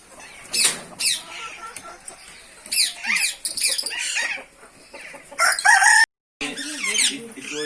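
Rooster crowing and chickens clucking on a farm, several bursts of loud, near calls and clucks with short gaps between them, alone without talk.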